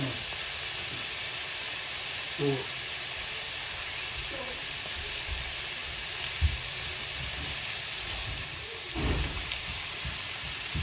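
Sirloin steak searing in olive oil in a cast iron pan, a loud continuous sizzling hiss close up with a few faint clinks, steady throughout.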